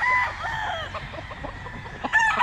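A gamecock rooster crows at a game farm, its call loud and near, with a second crow starting at the end; no talk over it.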